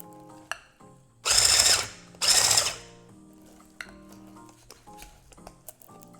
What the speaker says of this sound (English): for the electric whisk, you need a higher container